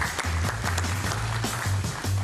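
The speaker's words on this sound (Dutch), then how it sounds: "mag ik een hartelijk applaus voor Mariska?" Studio audience applauding a guest on a Dutch comedy medical show, a dense continuous wash of clapping with a low musical hum underneath, steady and fairly loud throughout.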